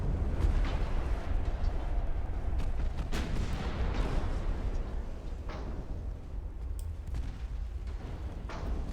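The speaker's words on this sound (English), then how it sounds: "We had a torpedo detonation" Torpedo detonations aboard a warship in a naval battle video game, a loud, rolling rumble of heavy blasts that merge into a continuous thunderous roar, with no voices over it.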